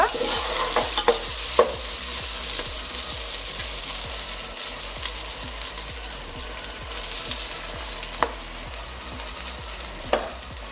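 Rice and onions fry together in a pan for a vegetable pulao, giving a constant soft sizzle under rhythmic scraping stirs and occasional utensil clinks, close by and fairly quiet, with no voices.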